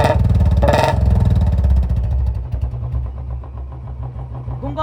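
A Royal Enfield Bullet 350 single-cylinder engine idles steadily after a tappet noise fix, its loud, even low thump continuing alone without speech before easing slightly lower toward the end.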